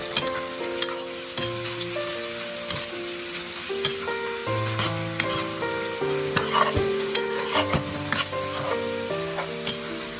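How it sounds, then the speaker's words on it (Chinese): Pig's trotters are stir-fried in caramelized rock sugar in a wok, a continuous sizzle broken by repeated scraping and clattering strokes, close and loud, with music playing underneath. "我们再快速的翻炒均匀，把猪蹄炒至上色。"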